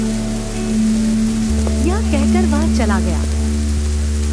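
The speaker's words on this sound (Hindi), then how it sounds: "बारिश अब तेज होने लगी।" Steady rainfall hisses in the background as a storm grows heavier, while a voice speaks over it and sustained tones hum underneath.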